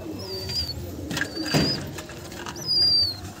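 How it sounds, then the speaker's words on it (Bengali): Soft Madrasi pigeon cooing, low and murmuring, with a few brief thin chirps and a light flutter, fairly quiet and close. "পায়রা আছে প্রচুর পায়রা"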